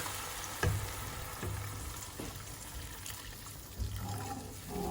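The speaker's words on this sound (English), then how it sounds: "Add the veg stock." Vegetable stock is poured into a hot pan, a watery rush and bubbling sizzle with a few soft knocks, steady and moderately close with no voices.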